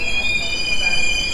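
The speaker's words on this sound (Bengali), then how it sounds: "আমরা এখন যে স্টেশনটায় ঢুকলাম সেই স্টেশনটার নাম হচ্ছে বালাসর রেলওয়ে স্টেশন।" The Sealdah–Puri Duronto Express pulls into Balasore railway station with a loud, steady, high-pitched squeal from its wheels over a rumbling rolling noise.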